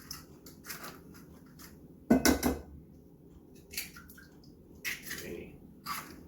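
Organic eggs cracked into a bowl for cranberry walnut bread: a series of sharp, close taps and cracks on a kitchen surface, one louder crack near the middle, with soft clinks between.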